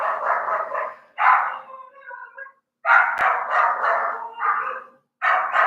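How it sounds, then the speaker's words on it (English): Neighbor's two dogs barking repeatedly, bursts of sharp barks and yips separated by short silences, fairly close and clear with no talk over them. "Sorry, I can't concentrate when the dogs are barking."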